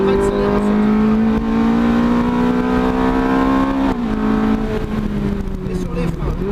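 A Ferrari race car on track powers out of a corner, its engine note climbing steadily in pitch, dropping briefly as it shifts, then rising again, loud and close throughout.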